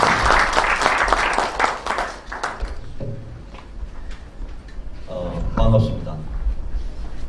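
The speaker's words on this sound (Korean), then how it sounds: "큰 박수로 진행해 주십니다" Applause from a seminar audience on Korea's private investigator system, a dense patter of clapping for the first couple of seconds that thins out, with voices and room chatter over it.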